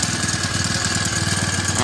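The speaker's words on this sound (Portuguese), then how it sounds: "Ligamos a máquina pela primeira vez, gente. Que motor silencioso, hein?" A new Super Four four-stroke motorbike engine runs quietly at idle on its first start, a soft even low putter with a faint steady whine above it, close and without voices.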